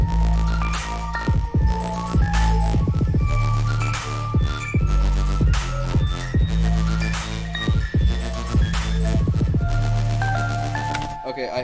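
A Super Saw synthesizer patch in electronic dance music production plays loud and dense, with buzzy stacked chords over a throbbing low bass and sharp percussive hits, continuing steadily throughout.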